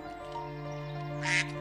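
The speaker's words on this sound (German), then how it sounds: "Oh, ist das eine gelbe Ente?" A yellow duck in the nature game Equilinox gives a single short quack near the end, heard over a steady droning game music bed.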